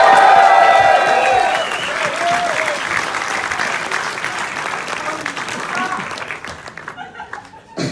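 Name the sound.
audience cheering and applauding for the director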